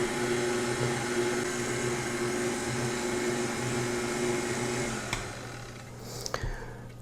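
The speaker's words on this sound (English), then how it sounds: "Now I'm using a regular KitchenAid, which is a great machine." A KitchenAid stand mixer with a dough hook kneads bread dough, giving a steady, close motor whir for about five seconds that then cuts off, followed by faint handling clatter.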